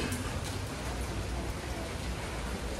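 Steady rain patters on a surface, a dense even hiss with no break and no voices.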